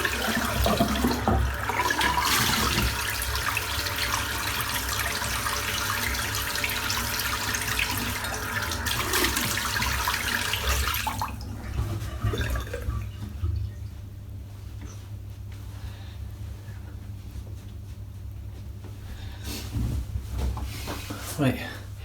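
A razor is rinsed under a running water tap, giving a steady, loud gush and splash for about eleven seconds. The flow then drops to a quieter trickle, with someone talking over it.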